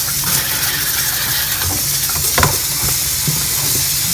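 Apples washed under running water: a steady, close hiss of flowing water runs throughout, with faint knocks and splashes as the fruit is handled, and no talking.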